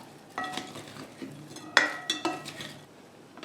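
Chili flakes and salt being stirred into raw pork in a bowl, giving soft scraping and clinking spoon-against-dish sounds in a few irregular strokes, fairly quiet and close, with no talking.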